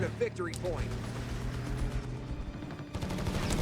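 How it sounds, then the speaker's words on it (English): Several .30 cal machine guns fire in bursts across a Company of Heroes 3 battlefield, a steady rattle under a caster's talk, growing denser near the end. "People got 30 cals firing away here."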